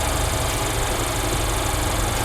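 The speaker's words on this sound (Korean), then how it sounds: "엔진 소리 일정하네요" A Mercedes-Benz GLA220 engine idles steadily under the hood, a continuous, even low rumble with a faint ticking texture and no voices, heard close and unchanging throughout.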